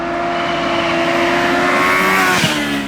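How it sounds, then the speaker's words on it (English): A supercharged Kawasaki Ninja H2 motorcycle accelerates hard, its engine note climbing steadily in pitch, loud and close, with a brief shift-like dip near the end. "this is how the acceleration of the H2 feels"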